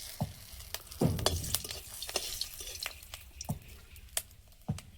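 Dried red chillies and bay leaves frying in mustard oil, a quiet hiss punctuated by irregular sharp crackles and spits, with a few louder pops and a brief clatter near the pan.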